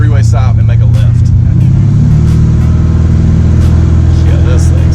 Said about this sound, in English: this thing sounds awesome.